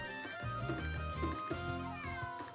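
A cat meows repeatedly in Suikoden V, several drawn-out mews over steady game background music, close and clear with no talk.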